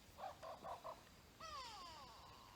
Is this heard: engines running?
no